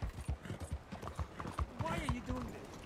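Horse hooves in the video game Red Dead Redemption II, a steady clip-clop walking rhythm with a whinny-like tone near the end, heard under someone talking.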